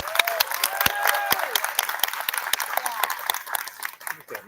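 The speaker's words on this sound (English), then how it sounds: "please join me once again in applauding all of our National Junior Honor Society members" Applause for National Junior Honor Society members at a school induction ceremony, a steady wash of moderate clapping from an audience that keeps going for several seconds, with a few sharper individual claps standing out.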